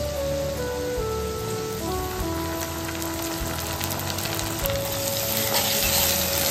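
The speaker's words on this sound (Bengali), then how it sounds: "টমেটোটা যতক্ষণ না নরম হয় ততক্ষণ এটা ভাজতে থাকবে।" Chopped tomato added to browned onions fries in hot oil for a fish curry, a steady close sizzle with crackling spatters throughout, no voices.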